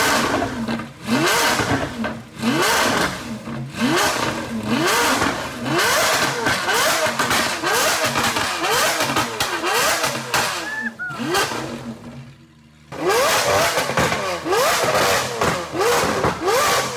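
A Lamborghini Aventador SV engine revving hard and repeatedly, with loud rising and falling blips in quick succession, a brief drop near the end and then more aggressive revs, close and piercing.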